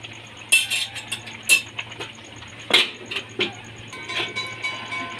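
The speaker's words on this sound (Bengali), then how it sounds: "এবার নেড়ে ঢাকা দিয়ে দেব।" Carrot dessert in a pot being stirred after sugar is added, heard as irregular metallic scrapes and clanks of a spoon against the pot, fairly close over a low steady hum, with no talking.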